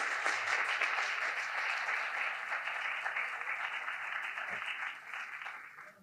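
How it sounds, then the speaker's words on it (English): A crowd at an opening ceremony applauds performers as they take the stage, a sustained, dense wash of clapping that holds steady and then fades toward the end. "So give them a round of applause."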